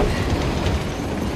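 A train runs along the tracks in the video game Uncharted: The Lost Legacy, a dense, steady rumble with rolling wheel clatter throughout.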